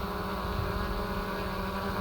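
DJI Mavic 2 Pro drone hovering close by, a steady, even whirring drone from its propellers with no other sounds.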